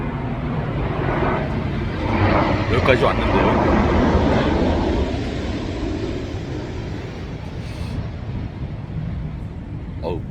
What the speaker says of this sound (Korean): 비행기 소리가 심하네요.